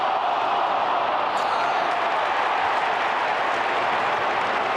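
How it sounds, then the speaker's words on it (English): Football crowd at a 1997 AFL match between Melbourne and Collingwood cheering and applauding, a dense, loud, continuous roar of clapping and shouts filling the whole stretch. "Melbourne fans have something to cheer about."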